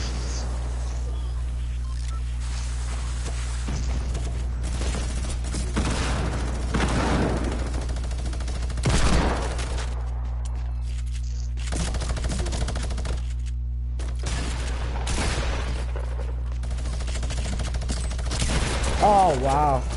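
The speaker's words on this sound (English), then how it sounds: "Oh, I'm getting shot at." Gunfire in the video game Fortnite: bursts of rapid shots come in waves across a steady low hum, loud and repeated, with players talking over the action.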